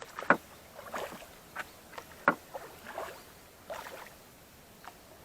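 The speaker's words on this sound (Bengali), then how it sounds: "আমাদের সোমনাথ বাবু এখন নৌকা চালানোর চেষ্টা করছে" Oars dip and splash as a small boat is rowed on a lake at Ranjandih Dam, each stroke making a soft separate slosh at an uneven pace, close by and fairly quiet, with no talking.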